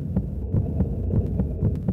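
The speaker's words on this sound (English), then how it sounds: "Heartbeat, man." Heartbeat sound effect from the video game Chrono Trigger (DS): a slow, steady double-thump pulse repeating about four times, deep and muffled, over a low ambient hum.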